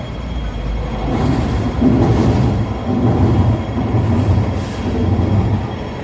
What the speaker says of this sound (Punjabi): ਟ੍ਰੇਨ ਆ ਰਹੀ ਮਗਰ